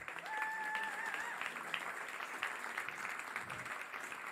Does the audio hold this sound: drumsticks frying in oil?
no